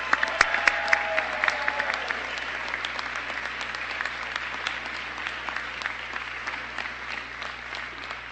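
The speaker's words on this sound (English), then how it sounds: "Let's give them all a round of applause" An audience at a victory night for an Ohio U.S. Senate re-election claps warmly for volunteers, steady dense applause that slowly thins over several seconds, with a few crowd voices in it.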